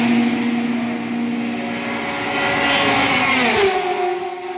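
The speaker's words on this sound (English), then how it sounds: "The cars are incredible. Just seeing them run and hearing them, they're so loud." Loud, continuous engine roar of Le Mans race cars passing close by, pitch rising and shifting as a car speeds past, with no talking.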